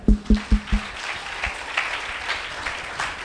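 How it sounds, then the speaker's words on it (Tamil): A church congregation at a Tamil Christian service claps four loud, even beats in unison. A softer, scattered round of applause follows and fades out. "கைத்தட்டுங்க எல்லாரும்."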